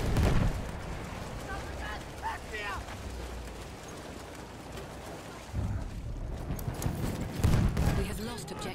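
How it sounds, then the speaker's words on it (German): A grenade explodes in a Battlefield 1 conquest match at Soissons, a broad, rumbling low blast surging up amid ongoing battle noise, with a voice speaking over the mix. "Ich werfe Granate."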